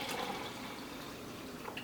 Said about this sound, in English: we're going to add about a cup of water